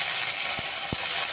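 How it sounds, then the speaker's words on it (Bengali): Ginger paste fries in a hot pan with a loud, steady sizzling hiss, broken by two brief low thuds close together, near and with no one talking. "আদা বাটাকেও আমি ভালো করে একটু প্রথমে ভেজে নিচ্ছি।"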